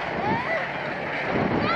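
Strong wind at an airfield where a Lysander aircraft is flying, buffeting the microphone in a continuous loud roar with slight surges.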